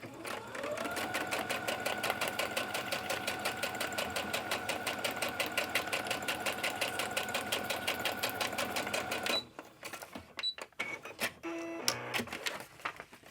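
A sewing machine stitches lines into a journal page with a fast, steady mechanical rattle for about nine seconds, then stops, leaving scattered clicks and handling noises close by.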